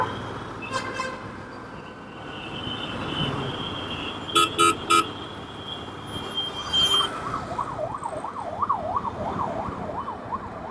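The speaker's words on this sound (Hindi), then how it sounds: "दिल्ली में आते ही देख लो, ट्रैफिक ही ट्रैफिक, ट्रैफिक ही ट्रैफिक।" Heavy city traffic in Delhi: a constant roar of passing vehicles, three quick horn blasts in a row, scattered honks, and an emergency siren wailing up and down, first in the distance and then closer.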